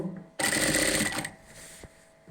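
A sewing machine stitches a pleat on a nighty, a short burst of rapid needle chatter lasting about a second before it stops, followed by faint handling noise.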